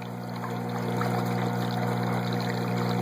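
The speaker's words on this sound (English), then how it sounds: "it's pouring not micro bubbles, but bubbles" Bubbles stream steadily down into the water of a 40 gallon breeder aquarium, a continuous close rushing and gurgling wash with a constant pump hum beneath it.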